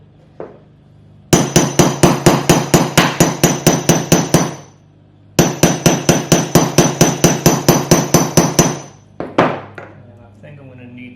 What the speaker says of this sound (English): I found if you give it a little tap, the hammer to get you started.